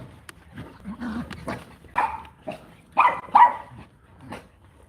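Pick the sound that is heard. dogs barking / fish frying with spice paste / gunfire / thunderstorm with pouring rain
dogs barking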